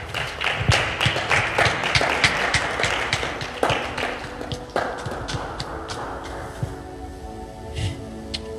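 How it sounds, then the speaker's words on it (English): A church congregation claps loudly and densely for several seconds, the many overlapping handclaps thinning out and fading as sustained musical tones carry on underneath. "Clap for Him."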